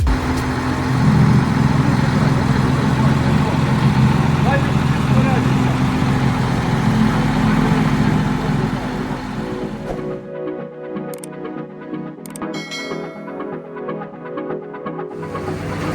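A heavy John Deere 6820 tractor diesel engine rumbles and throbs steadily at close range as it drives onto ramps, then drops to a lower, quieter idle with a few faint metallic clanks.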